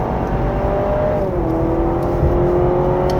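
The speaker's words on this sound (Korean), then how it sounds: "지금 엑셀 다 밟은 겁니다." A 2025 Honda CR-V Hybrid 4WD accelerates at full throttle on a winding mountain road. A steady loud cabin drone with a rising engine whine runs over road rumble, and no voices are heard.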